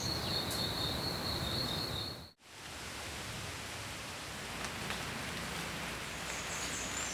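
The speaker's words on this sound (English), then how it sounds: "It has just been pouring all morning." Heavy rain pours steadily on a mountain homestead in a dense hiss, broken by a short dropout partway through, with no voices.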